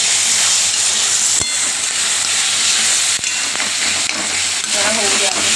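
Onions cook in a hot pan for chickpea-flour bhaji, a broad steady sizzle and hiss filling the whole stretch, with a few sharp clinks of a utensil against the pan.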